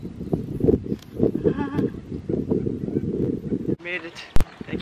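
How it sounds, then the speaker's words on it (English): Horses being ridden through water at Abel Tasman Park splash and clop along with occasional whinnies at a moderate distance, while people talk over them, ending with a sharp knock. "those are horses. Look, they're riding in the water."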